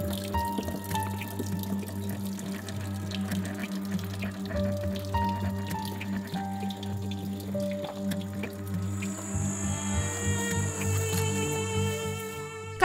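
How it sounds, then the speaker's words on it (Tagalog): A weak, slow trickle of water fills a plastic container, a thin steady flow with small dripping splashes at close range, carried on over a low hum that brightens near the end. "sa sobrang hina ng tulo rito, ang isang plastic container aabuti ng 5 minuto bago mapuno"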